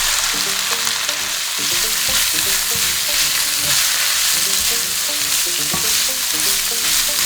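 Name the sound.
sliced red onions frying in a pan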